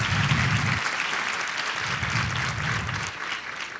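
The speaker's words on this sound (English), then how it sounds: "give a round of applause for all of our amazing folks in the room." Room full of people applauding at a high school seniors' recognition ceremony, steady crowd clapping at moderate loudness with a low hum underneath, no speech over it.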